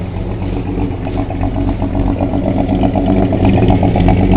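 A 1952 International L-112 half-ton truck idles steadily with a low, slightly uneven rumble and faint clatter, close and continuous throughout, engine running a little rich.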